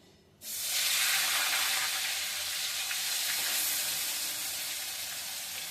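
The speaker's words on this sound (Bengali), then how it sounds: "এবার চিকেনটা আমি তেলে ছেড়ে দিচ্ছি" Chicken pieces dropped into hot lentil-flavoured oil burst into a loud, steady sizzle right after a brief quiet start, holding a bright, close frying hiss throughout with no talking.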